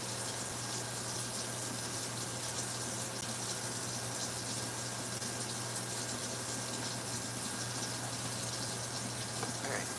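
Dishes washed under a running kitchen tap, a steady close hiss of flowing water into the sink with faint clatter, continuous throughout and without talk.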